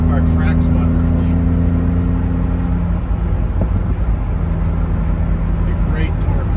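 A 1971 Aston Martin DBS with a handling kit cruises on the road, its steady engine hum and tyre roar loud and constant from inside the cabin, with someone talking over it.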